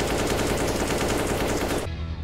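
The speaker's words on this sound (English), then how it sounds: "he's shooting me like that" Rapid automatic gunfire in a video game, a dense continuous rattle of close, loud shots that cuts off abruptly near the end.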